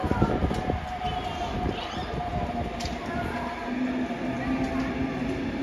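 A subway train departs Duisburg main station's underground platform, a continuous rolling rumble with squeals and clatter, loud and close throughout.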